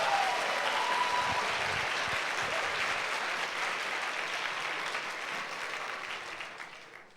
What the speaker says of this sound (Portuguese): Então vamos dar um aplauso ao Senhor